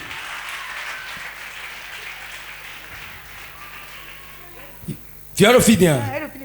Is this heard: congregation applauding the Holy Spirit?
yes